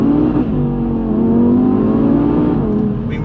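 A 2019 Audi TT RS accelerating hard with a loud, steady engine roar that climbs in pitch, heard up close from inside the car with no talking.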